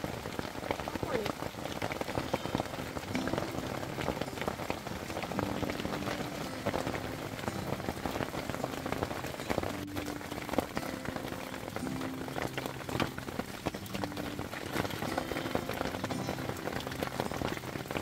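Rain patters steadily on surfaces at a cold, foggy campsite, a dense, even drizzle with occasional heavier drops that persists throughout, with faint voices now and then underneath.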